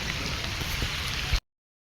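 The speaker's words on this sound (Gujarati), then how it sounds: "વરસાદ ચાલુ છે, જોઈ લો। એક જ ધારો સવારનો વરસાદ ચાલુ છે।" A steady, even rain that has been falling since morning gives a dense continuous hiss that cuts off abruptly after a second and a half.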